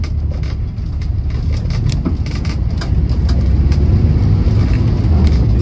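A 1965 VW Type 2 Splitscreen van, lowered at the front with an IRS conversion at the rear, runs on the move with a loud, steady engine drone and a constant rumble from inside the van, with no voices.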